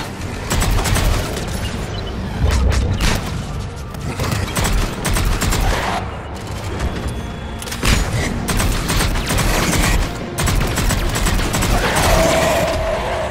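Assault rifle gunfire rages in the video game Mass Effect 3, with loud, dense, continuous bursts and booming impacts layered over each other through a chaotic battle.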